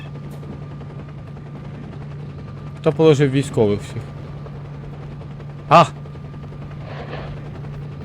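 A helicopter in S.T.A.L.K.E.R.: Shadow of Chernobyl drones steadily throughout, with a few sharp bursts of gunfire and someone shouting over it.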